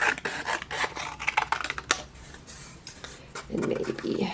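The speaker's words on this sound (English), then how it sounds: "I'm going to grab my scissors and cut this guy." Scissors snipping through paper for an autumn collage craft, a series of close, crisp cutting and rasping strokes in quick succession, followed by softer rustling of paper.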